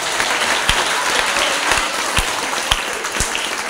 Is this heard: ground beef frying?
no